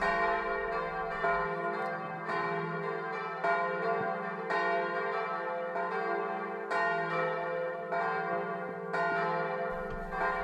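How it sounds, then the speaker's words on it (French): Church bells ring the Angelus in a full, overlapping peal, strokes repeating steadily with a sustained resonant hum beneath, loud and without voices. "la volée de cloches de l'Angélus"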